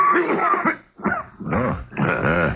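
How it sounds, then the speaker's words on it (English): Several harsh, raspy coughs in quick bursts, close and fairly loud, with brief pauses between them. "That's not a good sounding cough,"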